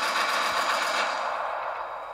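Rapid machine-gun fire from a Black Hawk helicopter's door turret in a rescue-mission video game, a dense continuous burst that stays loud and close before easing slightly toward the end.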